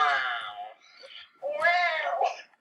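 A person mimics a cat's meow twice, drawn-out whining vocal calls with a short pause between, close and fairly loud.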